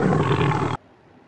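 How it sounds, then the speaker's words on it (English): A tiger roars loudly and close for under a second, a single dense burst that cuts off abruptly into near silence. "tiger."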